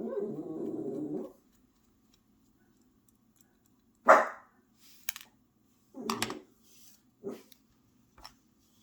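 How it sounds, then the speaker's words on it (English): A dog barking in the neighborhood, a few separate barks spaced over several seconds, fairly close and clear against a quiet background, with a low murmur at the start and no talking over the barks. "There's a dog barking in the neighborhood"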